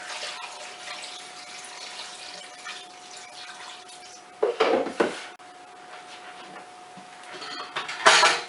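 Running water pours into a pot, with clinks and clatters of cookware midway and near the end; no voices.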